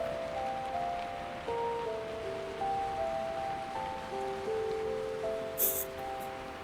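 Soft, steady rain falls as a diffuse hiss behind gentle, sustained background tones, quiet and even throughout with a brief brighter tick near the end.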